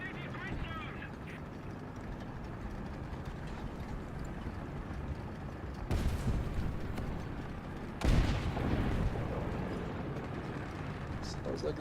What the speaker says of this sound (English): It sounds like a BTR. It is one indeed.